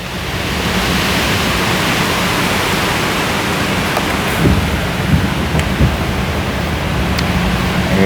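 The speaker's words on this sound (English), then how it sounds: "And the wind's still blowing." Strong wind blows steadily in the aftermath of Hurricane Helene, a loud, constant broadband roar with a few faint knocks and rattles near the end.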